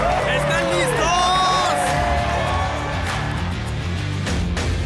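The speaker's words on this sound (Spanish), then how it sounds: "¡Aplaudan para mi hermano" A large crowd cheers, whoops and applauds at a Steve-O comedy show, a loud, dense, continuous roar with shouting voices riding on top throughout.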